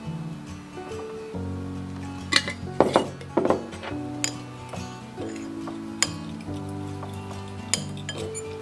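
A spoon mixes date sugar and milk into a caramel-like frosting in a bowl, giving repeated light clinks and taps against the dish, some sharper knocks midway, over a faint steady background hum.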